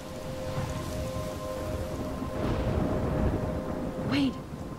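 Thunderstorm in the video game Life is Strange: a steady wash of rain with low rolling thunder rumbling throughout, a brief swell near the end, and some faint speech underneath.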